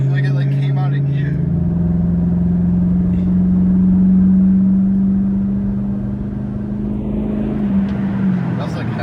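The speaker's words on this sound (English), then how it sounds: "I'll do like half, maybe half throttle." A cheap used truck's engine held at about half throttle, a close steady drone that swells, holds and then eases off, with people talking over it at the start and end.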